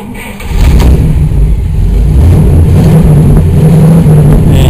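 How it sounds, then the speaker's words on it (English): A 1949 Oldsmobile Rocket 88 engine cranks and catches after a brief quiet moment, then runs steadily at a loud, even idle with low rumbling throughout. "1949 Oldsmobile Rocket 88 starts, runs okay."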